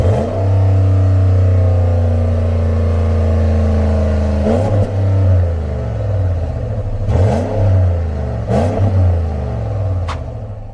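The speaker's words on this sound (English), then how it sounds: "Most importantly though, the exhaust sounds amazing." Ram truck engine with aftermarket exhaust, a deep, loud rumbling idle close by, broken by several sharp revs that rise and fall in quick succession before settling back.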